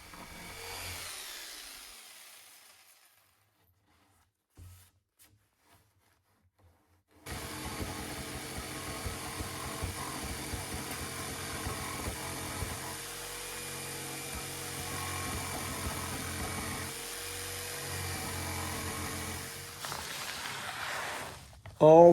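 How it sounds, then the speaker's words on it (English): A jigsaw rounds the corners of an oak tabletop, its steady buzzing cut running close and loud for about twelve seconds after a quieter start and a brief silence, then stopping near the end. "So hence the decision to grab the jigsaw and put these cuts in."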